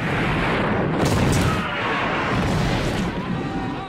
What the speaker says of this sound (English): One day, the oil drilling site suddenly exploded.